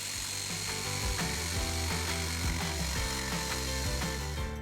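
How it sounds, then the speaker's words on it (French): A jigsaw fitted with a fine curved blade cuts a rounded shape in pallet wood for an outdoor chair, giving a loud, continuous buzzing rasp with a rapid, regular stroke pulse and slight pitch wavers as the blade follows the curve. "Je découpe l'arrondi avec une scie sauteuse équipée d'une lame coupe-fine et courbe."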